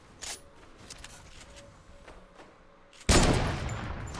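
Fortnite Battle Royale gunfire in a shotgun and sniper only match: a sharp early crack, a lull of faint game noise, then a sudden loud blast that trails off into a dense, noisy roar.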